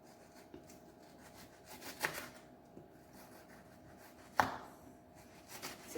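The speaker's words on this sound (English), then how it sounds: "now we're gonna make rings of our onion" A knife slicing an onion into rings on a board, quiet and close, a few soft scattered cuts with two sharper, louder strokes in a hushed kitchen.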